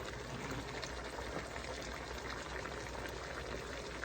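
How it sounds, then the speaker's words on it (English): Water is poured into a hot pan while stir-frying egg tofu with mushrooms, giving a steady, continuous rushing hiss with no pauses. "And then add a little water."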